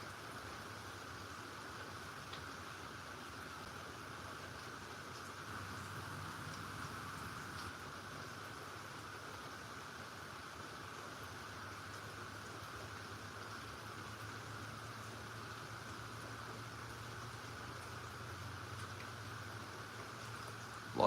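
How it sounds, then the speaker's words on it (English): Steady, even rain falls outdoors during a storm, a constant soft hiss that stays level and unbroken throughout, with no voices over it. "just listening to the sound of the rain, hanging out."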